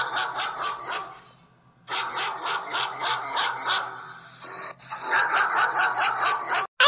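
A dog barks in repeated bursts in a village setting, close and fairly loud, with a short pause midway before the barking resumes.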